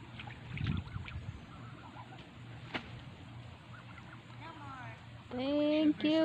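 Geese call outdoors: a few faint, scattered calls over a quiet background, then a loud, close burst of repeated nasal honks at the end.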